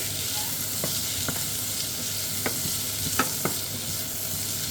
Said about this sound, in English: I'm just going to sweat these onions down